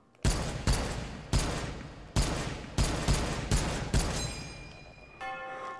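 Eight loud M1 Garand rifle shots fired in a VR video game, spaced roughly half a second to a second apart, each a sharp crack with a short echoing tail, followed by the ringing ping of the clip ejecting.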